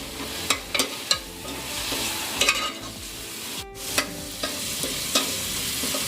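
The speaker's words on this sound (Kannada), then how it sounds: "ಇದನ್ನ ಸಹ ಒಂಚೂರು ಎಣ್ಣೆ ಬಿಡೋವರೆಗೂ ಫ್ರೈ ಮಾಡ್ಕೊಳ್ಳಿ." Ground masala frying in oil for egg biryani, where a steady sizzle runs under sharp, irregular clacks and scrapes of a ladle against the pan at close range, and no one speaks.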